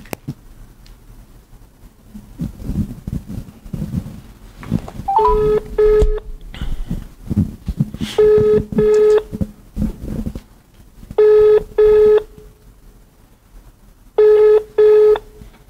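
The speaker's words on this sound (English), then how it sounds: "I make you dial the number for me." Touch-tone telephone number being dialed: several bursts of steady two-tone beeps in quick groups, loud and close, with quieter background rustle between them.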